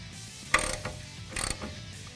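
Two set screws being tightened on a Rugged Ridge body-mounted tire carrier on a 2007-2018 Jeep Wrangler JK, two short metallic ratcheting bursts about a second apart, close and fairly quiet.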